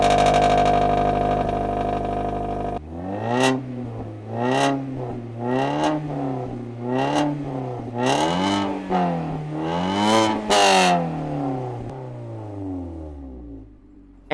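A Mazda 3 on its stock exhaust revs about eight times after a steady idle, each rev climbing and falling back in a rough, buzzy rise, loud and close with no talking.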